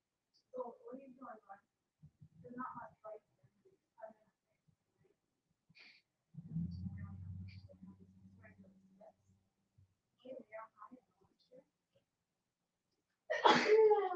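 A sharp, close sneeze near the end, during a Disney game-night livestream, following stretches of quiet talk and a low humming sound.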